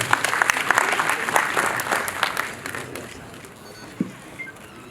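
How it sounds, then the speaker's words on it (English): Applause from a youth conference audience, dense clapping with some crowd noise, strongest in the first three seconds and then thinning to scattered claps with a single sharp clap near the end. "Let's clap."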